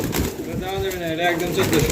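Pigeons kept for breeding coo in soft, repeated throaty calls, close by, with someone talking over and between them.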